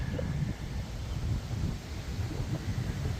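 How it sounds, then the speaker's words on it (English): Strong wind gusting through an outdoor cemetery in Maine, a steady low rushing roar buffeting the microphone, loud and continuous with no voices. "Sorry guys, the wind is just crazy"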